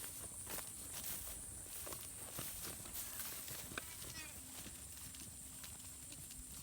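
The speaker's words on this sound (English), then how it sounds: "let's turn the goats out to the field" Goats being turned out to a field: faint, irregular hoof steps and shuffling on the ground against a steady background hum.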